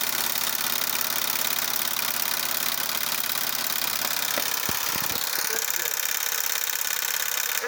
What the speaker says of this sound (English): You can press right here for the engine.